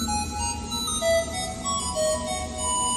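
A phone ringtone plays for an incoming call in a children's Sunday School skit at St. Thomas Jacobite Church, Portsmouth: a short, bright electronic melody of sustained tones over a continuous background of storm-like noise.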